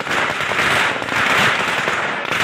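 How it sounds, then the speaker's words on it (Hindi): Strings of firecrackers crackle and pop on the streets of Amravati in a dense, continuous rattle, loud and close, with no pauses. "अमरावती की सड़कों पर पटाखों की लड़ियां फूट पड़ी"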